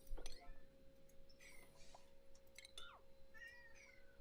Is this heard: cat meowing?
yes